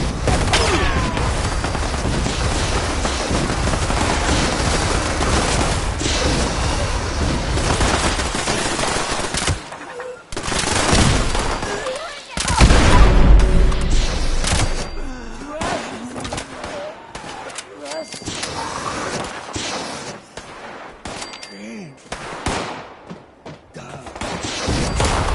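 Gunfire in the video game Fallout 76: loud, dense bursts of rapid shots and heavy blasts fill most of the stretch, with brief gaps, while someone talks over the shooting.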